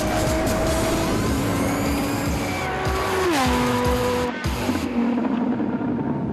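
A Unichip-tuned Lamborghini Gallardo drives hard, its engine howling loudly through rising and shifting revs with a drop at a gear change, alone without any talk.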